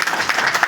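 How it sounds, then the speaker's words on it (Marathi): Devotees at a Swami Samarth gathering break into a short burst of steady, dense clapping with no voices over it. "श्री स्वामी समर्थ भाऊ सर्वांना टाळ्या वाजवा"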